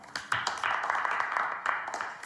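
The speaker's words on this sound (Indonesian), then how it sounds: "Tepuk tangan dong." A small group at an office meeting claps in welcome for new reporter candidates, a short burst of close, uneven handclaps lasting about two seconds.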